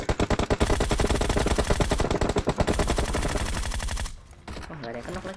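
Rapid bursts of automatic gunfire from a shooter video game crackle loudly and continuously for about four seconds, then cut off, leaving quieter game noise.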